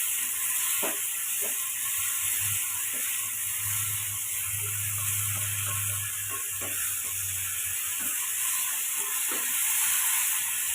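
Bottle gourd, already boiled with salt, is sautéed in a pan, giving a steady, soft sizzling hiss with a few light clinks and a low hum beneath, heard alone without talk.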